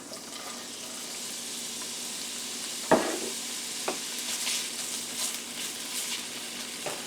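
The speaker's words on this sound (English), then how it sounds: "we're going to toss in some shredded carrots, about a cup." Shredded carrots, about a cup, are tossed into a hot pan and sizzle with a steady close crackle, marked by a sharp clatter and a few lighter knocks as they land and get stirred.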